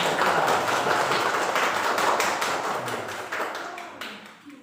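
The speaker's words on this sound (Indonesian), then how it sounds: "Alhamdulillah, tepuk tangan dulu." A classroom of students claps, a dense burst of many hands that stays steady, then thins out and fades to a few scattered claps.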